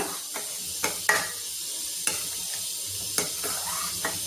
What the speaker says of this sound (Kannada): ಕೆನೆ ಹಾಕಿದ್ಮೇಲೆ ಕ್ಲೀನಾಗೆ ಮಿಕ್ಸ್ ಮಾಡ್ಕೊಳ್ಳಿ.